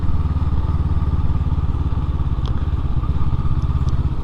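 A Honda SCL500 scrambler motorcycle runs through mud with a loud, close, steady low engine rumble, with a few faint clatters near the end and no talking.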